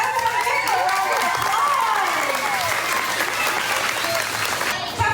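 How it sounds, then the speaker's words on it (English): Students at a school give a round of applause welcoming back Captain Acosta, with dense, sustained clapping and some cheering while excited voices chatter over it. "Everyone give a round of"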